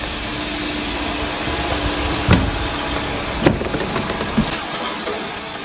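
A Nissan Serena engine idles with a steady, close rumble and broadband noise, broken by a few sharp clicks or knocks.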